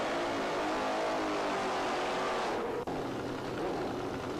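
Drag racing motorcycles, a Harley Davidson against a Kawasaki in a 1986 IDBA Pro Comp dragbike meet, roar loudly and steadily throughout, engine noise holding constant with a brief dip near the end.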